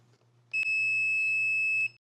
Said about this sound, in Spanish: en el medidor también va a pitar si hay una conexión entre los dos puntos